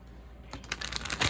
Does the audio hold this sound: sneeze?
no